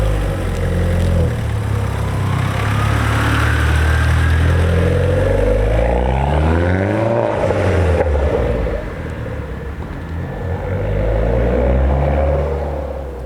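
A loud tuned 330 bhp Vauxhall Corsa VXR engine runs close by, revving and rising in pitch as it pulls away, then settling to a steady throaty drone.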